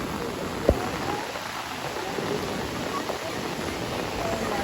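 Heavy monsoon rain in Konkan pours in a dense, steady wash with one sharp knock early on, and faint voices sit beneath the downpour.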